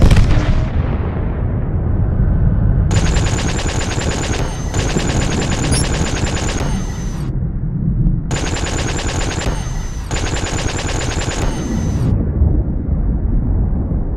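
Spaceship weapons firing in SpaceBourne, loud rapid bursts of blasts over a constant low ship hum, two long volleys each split into repeated sustained streams with short gaps between.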